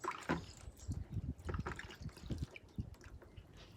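A little water is poured onto a garden plant, giving soft, faint trickling and splashing that comes in small irregular bursts against quiet background handling noise.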